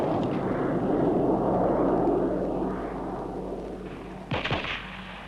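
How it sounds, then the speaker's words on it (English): A British-built Hunter jet flies low at about 400 feet while tribesmen shoot at it. A loud, rumbling roar fades over several seconds, and a few sharp cracks of gunfire follow near the end. "It flew over at 400 feet, dodging the ineffective fire of tribesmen more used to simple muskets than machine guns with a kick."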